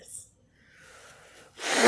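A person sneezes after trying a strawberry ice cream float, with a short faint burst early, a soft breathy stretch, then a loud close sneeze blast at the end.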